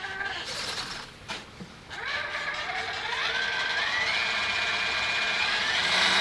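A Sheila RC crawler's motor and drivetrain run loudly up close, a strained mechanical whine whose pitch climbs steadily and then holds high over a constant grinding hum.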